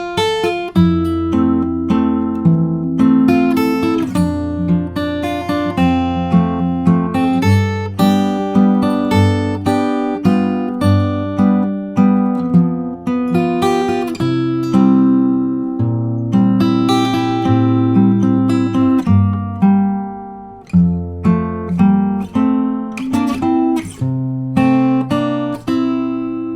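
A fingerstyle guitar plays the first part of a theme from Up, with plucked melody notes over bass notes in a gentle, steady rhythm, close and clear with no talking.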